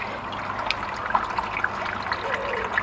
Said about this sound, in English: Clearly see the pump's working.